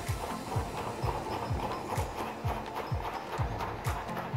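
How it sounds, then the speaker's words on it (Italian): A knife finely chops beef tartare on a cutting board in steady, evenly spaced strikes, close and moderately loud, with no talk. "perfetto continuiamo a tritare il tutto"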